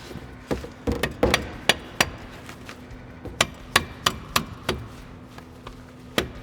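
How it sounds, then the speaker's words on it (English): A seized car brake caliper is hammered back into place, with a dozen or so sharp metallic blows in irregular bursts, close and distinct over a quiet background hum. "this caliper is a little bit seized, so we're probably going to have to hammer it on a little bit"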